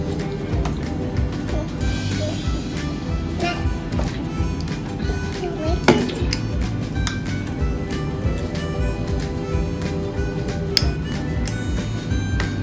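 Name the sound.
mixing avocado chia pudding with milk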